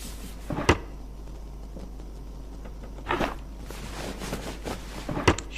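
A few soft wooden knocks and thumps as drawers are searched in the survival game The Long Dark, three separate short clunks spread out over quiet room tone, faint and close.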